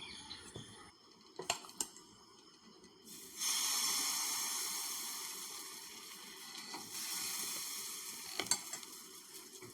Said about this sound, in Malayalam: ഇനി നമുക്കതിനകത്തേക്ക് നമ്മുടെ മാവ് ഒഴിച്ചു കൊടുത്ത് ഒന്ന് ചുറ്റിച്ചെടുക്കാം